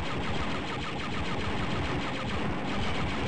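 Turret gunfire in Star Wars: Dark Forces comes as a dense, rapid, continuous stream of loud blaster shots, packed close together, with no pause for about three seconds.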